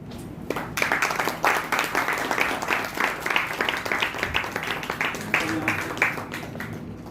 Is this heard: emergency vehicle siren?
no